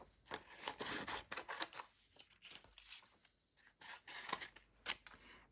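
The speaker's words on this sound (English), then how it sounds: "I'm going to use my big scissors." Big scissors snip through paper and card while fun journal cards are being made. The cuts come as a run of quick, close crisp snips with soft paper rustling between them.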